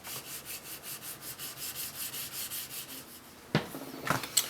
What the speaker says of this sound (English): That could only be wet sanding.